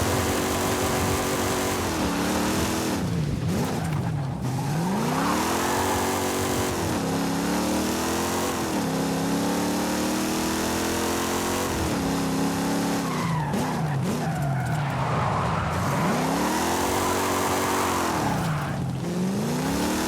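A loud, throaty V8 engine revs repeatedly, rising and falling in pitch with each blip, sustained and close for the whole stretch.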